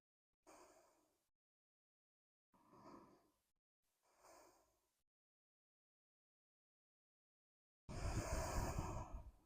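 Slow, steady breaths in and out through the nose during a slow yoga flow, close and soft, three gentle exhales spaced by silence, then a longer, fuller breath.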